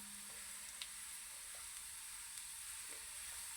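A teaspoon of cumin seeds crackles and sizzles in hot oil with browned garlic, a steady fine hiss of tempering for masoor dal that holds evenly throughout, fairly quiet and alone.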